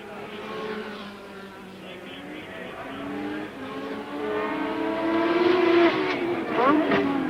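Formula One cars including the Williams Honda racing at the 1985 French Grand Prix: high-pitched turbo engines whine and rise through the gears in a continuous roar, with a commentator's voice beneath.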